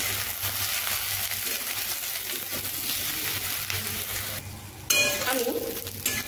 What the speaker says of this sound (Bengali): এবার আমি আলু ও বেগুনগুলোকে একসঙ্গে ভেজে নেব